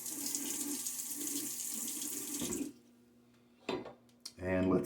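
Running tap water at a bathroom sink while water is splashed on a face before a shave, a steady rushing flow that stops, followed by a few short splashes and a voice.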